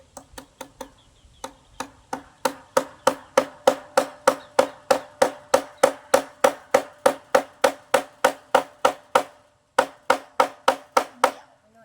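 Steady, loud hammer blows driving something down, about thirty evenly spaced sharp knocks in a quick regular rhythm after a few slower taps, with a brief pause near the end and no talk.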